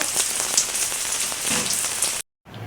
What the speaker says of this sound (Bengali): একটু বৃষ্টিটা কমে গেল যদিও